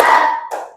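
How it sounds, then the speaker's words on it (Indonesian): Two quick hand claps from the Indonesian 'tepuk nyamuk' mosquito-clap game in a classroom counting lesson, close and fairly loud, the second tap following about half a second after the first. "2 kali tepuk nyamuk,"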